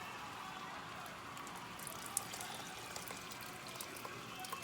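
Pickle brine for homemade bread and butter pickles pours softly into jars with onions, a faint continuous watery trickle with small splashes and light clinks.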